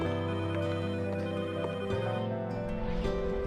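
A telephone rings with a steady, continuous electronic tone layered over a sustained harmonic hum, fairly loud and unbroken throughout, with no talking.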